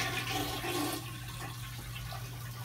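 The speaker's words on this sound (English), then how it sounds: "Flush that shit, Nathan." A toilet flushes up close, a loud rushing gush of water in the first second that settles into a steady swirling drain and trickle for the rest.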